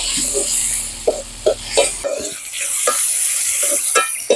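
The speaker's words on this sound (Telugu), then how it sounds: "ఉల్లిగడ్డ ఎర్ర కానిద్దాం ఫస్ట్" Onions frying in a pan until reddish for a chicken liver fry, with a steady close sizzle and intermittent louder clicks and scrapes from stirring, no talking.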